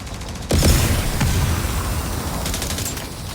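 Gunfire in the mobile shooter The Division Resurgence: a loud opening burst of shots, then scattered cracks and a quicker rattle later, all close and forceful over battle noise.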